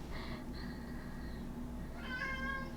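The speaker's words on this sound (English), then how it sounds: "Oh gosh, my cat's meowing." A house cat meows twice indoors, a soft drawn-out cry and then a brighter rising one, faint against a quiet room hum.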